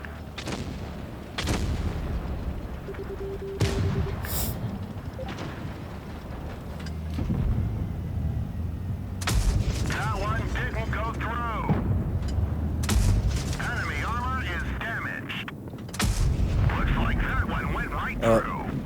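Tank cannon shots boom in World of Tanks Blitz, with several sharp blasts spread across the stretch amid engine rumble and battle noise while a commentator talks over it.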